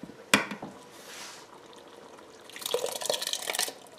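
Tomato sauce pours from a can into a pot of traditional chili, giving a soft wet glugging and splattering that grows louder near the end after a sharp knock at the start.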